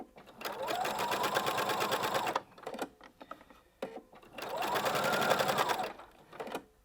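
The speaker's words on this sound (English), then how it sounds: "just keep stretching the fabric out as you sew so that you're able to sew parallel." A sewing machine stitching shirring on fabric stretched flat while sewing, with two sustained, close, rhythmic whirring runs of about two seconds each and a brief quieter pause between them.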